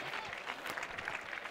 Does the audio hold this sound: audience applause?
yes